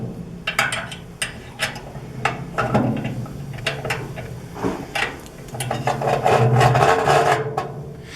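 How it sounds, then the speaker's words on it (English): Metal scraping, rubbing and clicking as a set screw is loosened to pull an old hot rod igniter from a REC TEC RT-680 pellet grill's fire pot, a series of close, irregular rasps and taps that thicken toward the end. "we're going to loosen the set screw and remove the old hot rod"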